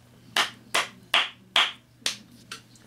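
Six sharp hand claps in a steady, slightly slowing rhythm, close and distinct over a faint background hum.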